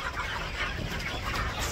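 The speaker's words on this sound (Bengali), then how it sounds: "ওই যে ভিতরে মুরগিরে খাবার দিতেছে" Chickens cluck steadily while they are being fed in a village yard, a dense and continuous flock chatter with no talk.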